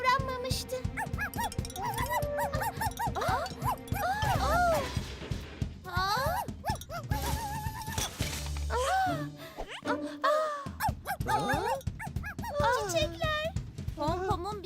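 A dog whimpers and yips with high, wavering cries, mixed with short barks, over an animated cartoon-like background with music and voices.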